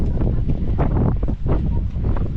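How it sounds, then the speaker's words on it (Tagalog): Strong wind at the coast near Saint-Tropez, France, buffets the microphone in steady, heavy low rumbling gusts, with a faint voice buried underneath. "Malakas lang ang hangin ngayon."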